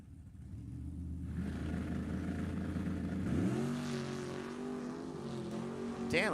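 A drag race car at Sacramento Raceway Park during a Summit ET bracket race: a loud, deep engine rumble that holds steady, then climbs in pitch as it revs, heard from a distance with no talk.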